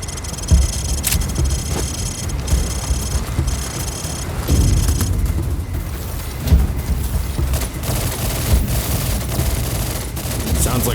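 Rapid bursts of automatic gunfire and single shots at a shooting range in Call of Duty 4, loud and steady across the whole stretch, with a few heavier booms mixed in.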